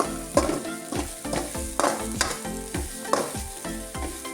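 Garlic cloves frying in a pan for a postpartum home remedy crackle and sizzle close by, with rhythmic scraping stirs roughly every half second over a continuous tonal hum.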